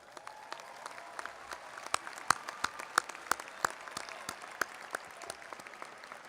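Applause from a seated commencement audience honoring graduating candidates, a steady patter of many hands with sharper individual claps popping out, moderately distant and filling the hall without voices.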